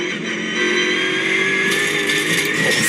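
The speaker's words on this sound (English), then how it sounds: "Love this engine and all the noise from the gearbox." Onboard a GT4 race car at Spa-Francorchamps, a steady engine drone mixes with a high, constant gearbox whine, loud and close with no talk over it.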